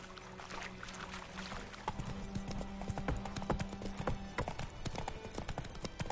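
Horse hooves clip-clop in a steady trotting rhythm while riding in The Witcher 3, close and fairly loud over a low ambient game bed, with a brief tonal hum partway through.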